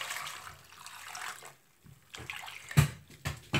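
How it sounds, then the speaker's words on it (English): Water pours into a cooking pot holding yam and salt, a close splashing and gurgling that comes in a few uneven bursts with brief pauses between. "then add your water"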